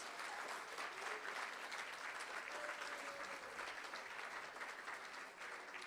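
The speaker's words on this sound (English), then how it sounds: "Let's give them a big round of applause." Steady applause from an audience at a school board meeting, a continuous wash of many hands clapping, heard faint and distant throughout without breaks.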